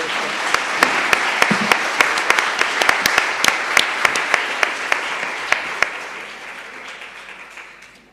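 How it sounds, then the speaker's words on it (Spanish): Sustained applause from a conference audience at a family-themed congress panel, dense clapping with a few sharp, close hand claps standing out, gradually dying away toward the end. "Le damos un aplauso."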